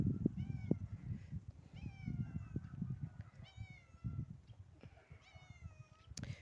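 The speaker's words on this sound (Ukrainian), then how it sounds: "Кіт біжить за мною." A cat meows repeatedly, several drawn-out calls close by, over soft rustling and footsteps outdoors.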